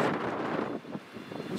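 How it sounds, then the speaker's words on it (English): Gusty wind buffets an outdoor microphone at a racecourse, a broad steady roar that dips briefly midway then picks back up. "It's blowy."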